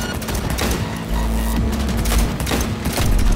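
Rapid automatic gunfire rattles in bursts during a vehicle chase in Cyberpunk 2077, aimed at a driver, with loud overlapping shots and a booming engine underneath, no speech.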